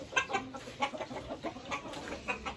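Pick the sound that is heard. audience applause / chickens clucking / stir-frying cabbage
chickens clucking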